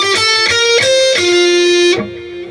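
Electric guitar solo phrase with notes held straight and unwavering without vibrato, several picked notes leading into a long steady sustain that fades at the end, with no voice over it.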